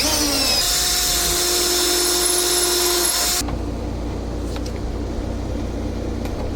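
A power drill whines steadily as it drives a screw into pallet wood for a rustic tool caddy, running loud for about three seconds before cutting off, followed by quieter room noise and faint knocks.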